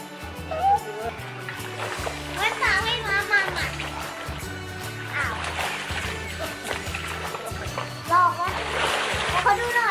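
People splash into water during a Songkran water celebration, with repeated splashes and trickling among children's voices, chatter and a steady thumping beat in the background.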